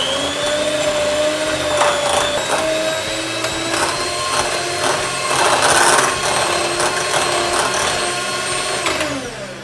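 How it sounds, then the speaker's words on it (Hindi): An electric beater whips cream cheese with sugar for a cheesecake, a steady loud motor whir running close and continuously for about ten seconds with faint scraping knocks from the bowl. "शुगर को हमने 2 मिनट के लिए बीट करके लिया है"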